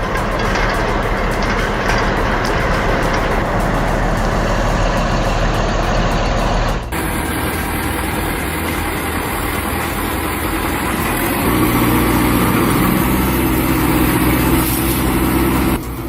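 A bulldozer engine runs loud and steady as the dozer eases down without ramps or trailer, a continuous heavy diesel drone whose tone shifts abruptly partway through, then deepens into a lower rumble near the end.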